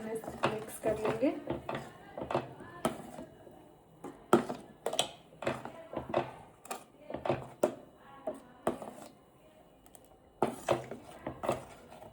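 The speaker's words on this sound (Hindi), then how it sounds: "अब इसे प्रॉपरली मिक्स कर लेंगे" A spoon scrapes and knocks against a pan while palak paneer ingredients are mixed. Sharp metallic clinks and scrapes come in irregular bursts, near and fairly loud, separated by brief pauses.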